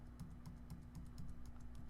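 Computer keyboard keys are tapped in a steady, quick rhythm of about eight soft clicks, faint and close in a quiet room, with a low hum underneath.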